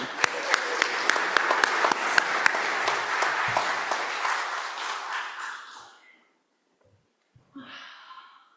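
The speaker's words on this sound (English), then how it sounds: "let's all have a moment and applaud each other" A church congregation applauds one another on Membership Sunday, dense clapping that rises and holds for several seconds before fading out, followed by a brief silence and a short burst of voices.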